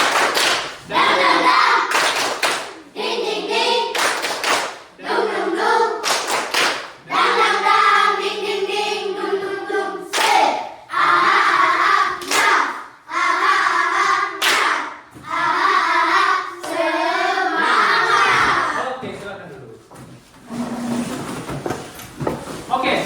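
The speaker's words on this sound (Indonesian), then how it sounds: "tepuk semangat" Students in a classroom clap hands in a lively patterned spirit-clap rhythm, with chanting voices mixed in, loud and close, running for a long stretch before trailing off.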